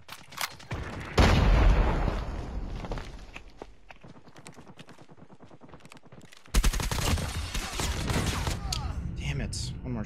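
PP-Bizon submachine gun fire in a ranked video game match, with rapid bursts of shots, a quieter stretch of scattered pops, then a loud renewed burst near the end, with talk mixed in.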